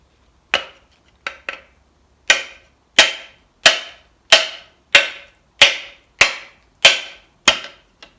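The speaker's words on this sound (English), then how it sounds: "then you have to hold this quite tightly and then hit this with a hammer" A hammer strikes a piece of timber set against a Bolens hydraulic lift cylinder, a series of about twelve sharp, loud wooden knocks, irregular at first and then falling into a steady rhythm of roughly one blow every half second.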